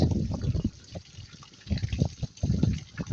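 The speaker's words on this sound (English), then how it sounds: "this one's leaking even more here. You can hear it." Water leaks through an old canal lock gate, a close, uneven splashing and gushing that comes in irregular bursts with a few brief lulls.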